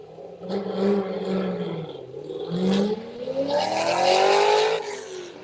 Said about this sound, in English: You can hear that banging the gears in the Corvette